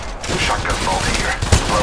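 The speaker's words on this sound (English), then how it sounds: "Getting shot at." Loud, continuous volleys of gunfire in the mobile shooter Apex Legends Mobile, with overlapping shots and one sharper bang near the end.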